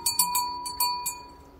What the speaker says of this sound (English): He's got a bell on his neck.